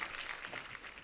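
Brief burst of studio audience clapping on a televised comedy show, dense and bright, lasting about a second with no speech over it.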